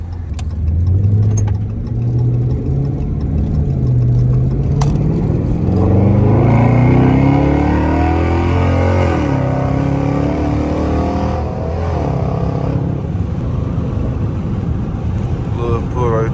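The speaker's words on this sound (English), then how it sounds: "When the car echo off stuff, it sound kind of good." A Dodge Charger R/T's engine rumbles low and steady, swelling into a rev that echoes off the walls of an enclosed tunnel, with a voice talking over it part of the time.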